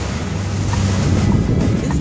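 Rough surf pounds the shore at Lover's Beach in Los Cabos, Mexico, a steady loud wash of breaking waves mixed with wind buffeting the microphone, with no voices.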